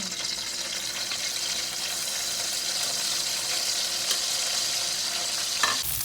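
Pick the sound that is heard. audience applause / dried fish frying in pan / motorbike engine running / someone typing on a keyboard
dried fish frying in pan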